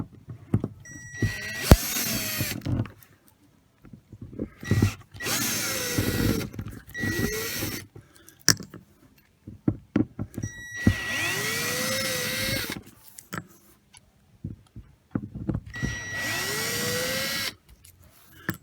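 Power tool backing screws out of an RV skylight: four loud bursts of whining motor with rising and falling pitch, separated by quiet gaps and small clicks and handling noises.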